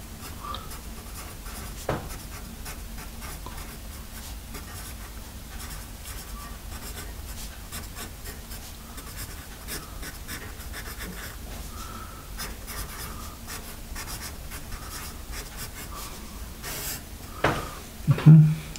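A black Ticonderoga HB number two pencil scratches steadily across paper in a continuous, quiet, close-up writing sound with faint clicks, ending in a few louder knocks.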